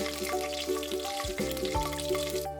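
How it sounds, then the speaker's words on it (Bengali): Panch phoron and chillies fry briefly in hot oil, giving a short, steady sizzle close by with no speech. "ফোড়নটা কয়েক সেকেন্ডের জন্য ভাজবো, তবে 5 ফোড়নের মেথি যেন পুড়ে না যায়"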